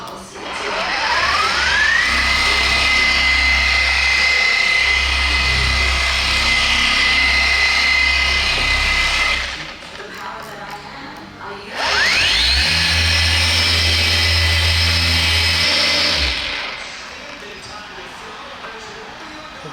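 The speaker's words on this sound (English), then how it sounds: "using the wool pad as kind of a knockdown or a heavy mowing of the aggressive swirls" A car polisher spins a wool pad to knock down heavy paint swirls, a loud whirring whine that ramps up, runs steadily, stops briefly, then spins up again and cuts off near the end.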